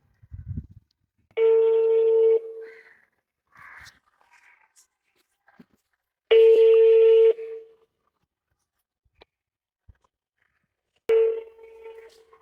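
A phone call rings out unanswered: a tonal ringback burst of about one second repeats three times with long silent gaps between, clear and close, with no one picking up.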